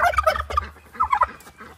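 A turkey near a chicken pen outdoors gobbles close by in a few quick, loud, rattling bursts, with no talking over it.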